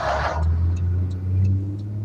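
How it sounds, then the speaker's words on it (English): Road traffic rumbles steadily nearby, a low continuous engine drone from passing cars that swells slightly midway, with no voices over it. "traffic"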